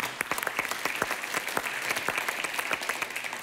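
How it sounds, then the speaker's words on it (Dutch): Sparse, individually distinct handclaps from a modest symposium audience greeting co-speakers, irregular and close, with no talking. "Geef ze even een groot applaus."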